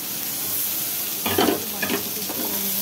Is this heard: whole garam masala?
yes